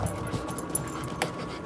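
Several dogs pant close by in quick, steady breaths, with small whimpers and faint clinks mixed in.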